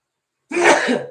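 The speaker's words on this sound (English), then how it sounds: "I'm about to sneeze in a weird way" A single short, sharp sneeze bursts out close to the microphone after a moment of silence, breathy and explosive.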